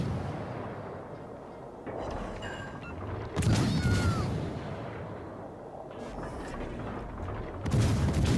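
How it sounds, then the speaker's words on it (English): Naval guns firing blind shots in World of Warships Legends from a KMS Weimar cruiser, a few heavy booming salvos spaced several seconds apart, each a loud deep blast fading into low rumble. "Fire a few more blind shots just in case."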